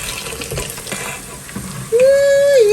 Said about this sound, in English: I am gonna be pouring in my hot water.